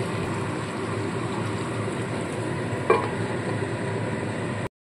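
Chicken fry in spices cooking covered on very low heat, a soft steady bubbling simmer with one brief clink of the lid partway through before the sound cuts off.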